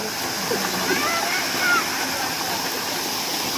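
Small waterfall in a park in Oman, a steady hiss of falling and splashing water filling the scene at moderate level, continuous without breaks.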